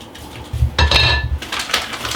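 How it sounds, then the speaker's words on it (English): Flour is sieved for cranberry fruit scones, with a mesh sieve rattling and clinking in steady bursts close by, with no talking. "I'm just going to sieve the flour together"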